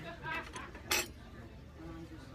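Metal cutlery clinks and rattles faintly as someone rummages for a spoon, a few quick light chinks with one brighter clatter near the middle, under a low voice.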